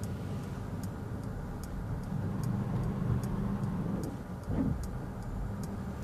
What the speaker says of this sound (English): So it just indicates by itself, and that basically drives out of the parking spot. Fully automatic and pretty fast.